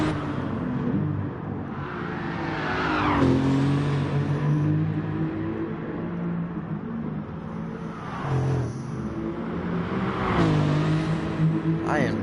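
Cars race on a track day, engines revving up and sweeping past in repeated rising whines and roars, with a person talking over the engine noise throughout.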